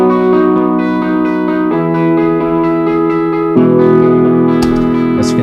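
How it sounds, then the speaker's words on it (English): Computer-generated guitar chord strumming from a software instrument, with sustained harmonic chords changing every couple of seconds, loud and steady with no talk. "here you can edit the strumming, the way the computer picks the guitars"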